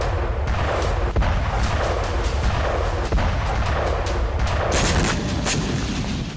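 Heavy booms and artillery blasts from the war in Ukraine thud repeatedly over a continuous rumbling background, some sharp and close, others distant, with no talking.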